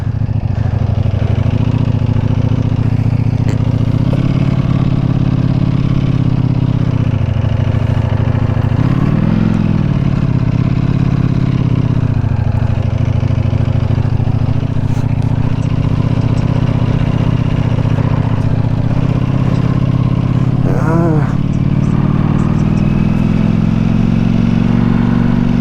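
A Ducati Panigale V4S motorcycle rides through London city streets, its engine a steady loud drone that rises and dips with throttle changes across the whole stretch, with no talking.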